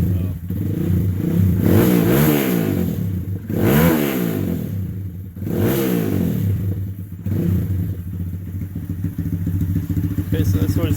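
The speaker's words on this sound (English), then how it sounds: "that's what it sounds like cold with this dual exhaust" A Honda Grom motorcycle with a cold engine and dual exhaust, revved up sharply three times over a burbling idle, loud and close, then settling back to a rough idle.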